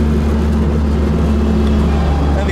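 A Toyota AE86 with a swapped SR20 turbo engine accelerates hard, its loud, steady, low engine drone filling the whole stretch without a break.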